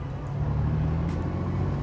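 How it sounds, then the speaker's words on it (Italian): Lancia Aurelia B24 Convertible engine running steadily at idle, a smooth, continuous low rumble with a constant tone throughout, close and fairly loud, with no talking. "dovreste sentire, provare la rotondità di questo motore"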